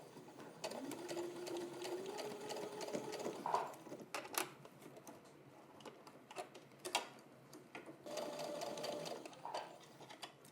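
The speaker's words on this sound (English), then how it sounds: "and I'll begin to sew." A sewing machine stitching fabric for a hot cross bun pin cushion, a fast whirring run of stitches that stops and starts, with small ticks and clicks between runs.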